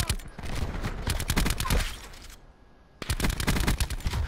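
Rapid automatic gunfire in a video game, fast loud bursts of evenly spaced shots that break off for a brief half-second gap before another burst resumes, close and continuous.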